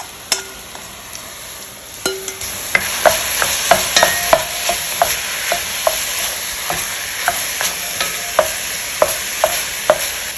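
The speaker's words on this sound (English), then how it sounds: "I'm gonna add my beef in. We're gonna brown our ground beef first." Ground beef browning in olive oil in a Le Creuset pot, a steady loud sizzle with a spoon stirring and scraping the pot in regular clacks close by.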